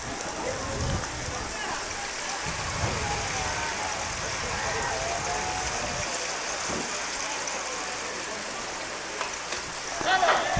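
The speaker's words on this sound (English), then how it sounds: "Definitely a good little rain shower here now." A rain shower falls during a high school baseball game, a broad steady hiss of rain on the field and surfaces with a public-address announcer's voice faintly present at times.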